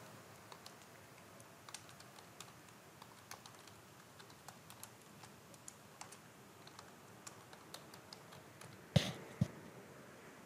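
Email address typed on a keyboard during account sign-up: faint, sparse key clicks tapping at an uneven pace, then a couple of sharper, louder strokes near the end, alone without talk.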